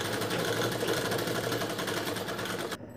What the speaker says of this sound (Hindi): ये पूरी सिलाई हमें यहाँ पर चला लेनी है